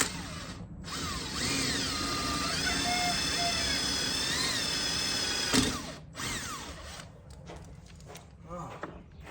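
A power drill whirs steadily for several seconds while boring a hole in a camper refrigerator swap, its pitch rising and dipping as it bores, then stops with a few clicks and handling sounds.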